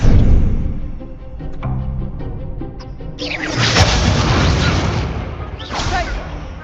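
Confringo fire-spell explosions in the Hogwarts Legacy video game, heavy booming blasts that swell up loud and dense after a busier stretch of smaller magical impacts and pops, with some game speech mixed in.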